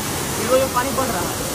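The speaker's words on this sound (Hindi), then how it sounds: "जहाँ पे पानी गिरता है और बहुत ही अच्छा वाटरफॉल बनाता है" The waterfall at Dhanraul Dam in Sonbhadra, Uttar Pradesh, gives a loud, steady rushing roar, and a voice speaks over it.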